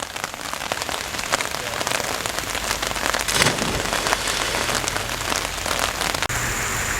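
Steady, heavy rain pattering on a river and an umbrella close by, a dense continuous hiss with scattered louder drops throughout.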